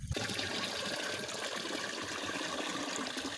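Steady water pouring and splashing into a sprayer tank, a continuous gushing stream with no pauses and no voices.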